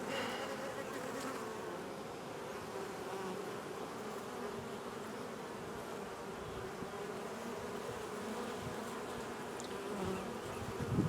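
A dense, continuous hum of many bees buzzing close by, steady and fairly quiet, with no voices.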